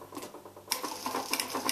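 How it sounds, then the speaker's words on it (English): A sewing machine stitches back and forth across a button placket in a short, close burst of rapid mechanical chattering, pausing briefly before running again at a steady clip. "Go back and forth with your sewing machine."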